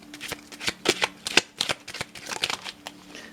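A deck of oracle cards is shuffled and handled, giving a quick series of crisp riffling and slapping bursts, close and fairly quiet, with no voice over them.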